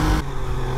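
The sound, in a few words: Triumph Trident 660 motorcycle accelerating, traction control intervening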